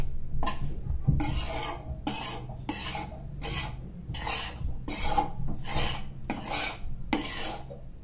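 Wheat flour dough roasted in a thick-bottomed pan for gul papdi, heard as rhythmic rasping scrapes of a spatula against the pan, about ten strokes in a steady back-and-forth beat, close and dry.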